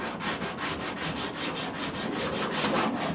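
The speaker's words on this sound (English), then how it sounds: "Probably just sand them off." Steady back-and-forth sanding of Bondo filler on the trunk of a 1929 Chrysler, a close, continuous rhythmic scraping with regular strokes throughout and no voices.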